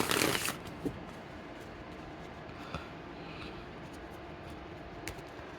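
A tarot card deck is shuffled close up: a brief burst of riffling at the start, then quiet, soft card rustling with a few light taps, faint overall and without talking.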